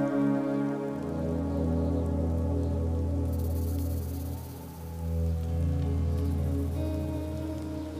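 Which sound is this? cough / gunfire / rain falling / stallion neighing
rain falling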